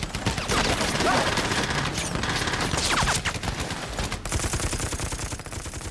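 Massed light and heavy gunfire on a Korean War battlefield, a dense, continuous fusillade of overlapping rifle and machine-gun bursts, loud and close, with shouting voices mixed in.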